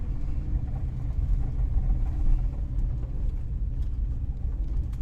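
A steady, low engine rumble heard from inside a vintage Volvo Amazon, continuous and fairly loud with no talking.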